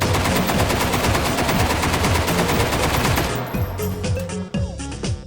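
Rapid automatic rifle fire in the virtual reality shooter H3VR, a dense sustained burst of loud close shots for about three seconds, then a few sparser single shots and clicks of handling.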